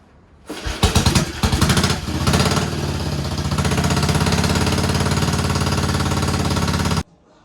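A Matchless motorcycle engine kicked into life, stuttering for a few uneven beats and then settling into a loud, steady, close single-cylinder thump before cutting off abruptly, with no talking.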